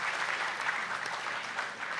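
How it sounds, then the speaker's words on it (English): Continuous audience applause for debaters on stage at a debating final, a dense even wash of clapping throughout the short moment. "may we have a round of applause for these 16 brilliant young minds on stage"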